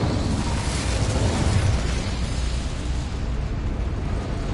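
Incendio fire spell cast in the video game Hogwarts Legacy: a loud, sustained fiery burst that roars steadily for several seconds and then tapers slightly, with no talking.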